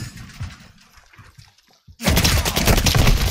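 Video game handgun fire breaks out after a quiet stretch of faint sounds, becoming a dense, loud run of rapid shots that continues to the end.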